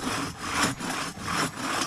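A cross cut saw cuts through a redwood log on a trail in steady back-and-forth strokes, each rasping pull rising and falling about twice a second, close and loud with no talking.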